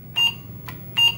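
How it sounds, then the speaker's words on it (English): An Apple II Plus computer gives two short, sharp electronic beeps about 0.8 seconds apart on control-reset, clear and close against a quiet background hum. "And we have a beep, which is good."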